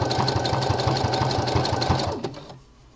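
A home sewing machine stitches a gusset seam on boxer briefs, a loud fast steady whirring hum of the needle that slows and stops near the end.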